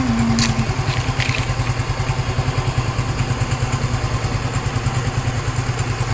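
Motorcycle engine idling right after an oil change, a loud close steady putter with an even rapid pulse and faint clatter, running throughout without talk.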